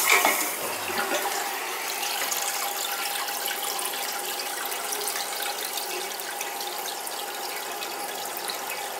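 Water runs steadily in a toilet with a leaking flush valve, a continuous close hiss and trickle that stays even throughout with no voices.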